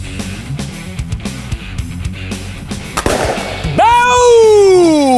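An Umarex Torq air rifle is fired at a Coke can, giving sharp pops amid busy background noise, a louder crack at the hit, then a ringing tone as the can reacts.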